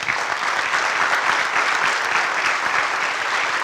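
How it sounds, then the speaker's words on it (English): Steady, dense applause from an audience at a Greeley West FFA program, sustained and even throughout with no voices standing out. "Please join me in a round of applause."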